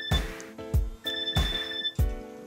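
A telephone bell rings four times in a steady, evenly spaced pattern, loud and close, with no talking.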